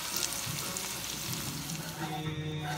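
Catfish fries in a pan, a dense, steady sizzle and crackle running close and loud without a break.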